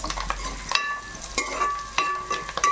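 Curry leaves sizzle in a pan beside fried onions. A soft, steady crackle is broken by several sharp clinks of a stirring spoon against the pan. No one speaks.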